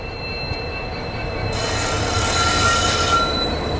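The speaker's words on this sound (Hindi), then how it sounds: "यहाँ एक्चुअली में हम लोग की अभी क्रॉसिंग हो रही है साबरमती WDP 40 के साथ" Heard from aboard the Intercity Express, a train hauled by a Sabarmati WDP4 diesel locomotive passes on the next line at a small station. Steady wheel rumble and a thin squeal suddenly swell into a loud, close rush of passing coaches.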